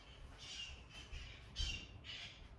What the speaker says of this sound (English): There go the parrots.